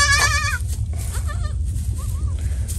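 A goat bleating during kidding, a loud, wavering near cry at the start followed by softer bleats, over a steady low hum.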